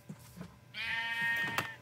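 A sheep in the Minecraft video game gives a single drawn-out bleat, clear and fairly close. A few soft game sounds come just before it.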